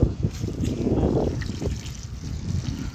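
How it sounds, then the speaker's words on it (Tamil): Water poured from a container onto garden soil, a close trickling and splashing pour that runs steadily for a few seconds, with no speech over it. "தண்ணி விடுப்பா அதில் ஊற்று"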